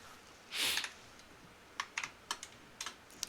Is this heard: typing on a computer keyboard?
yes